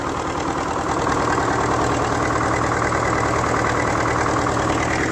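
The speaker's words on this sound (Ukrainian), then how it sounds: "Запустили МТЗика, який у нас тракторець." An MTZ tractor engine idles steadily and loudly up close, a continuous low chugging rumble with no pauses.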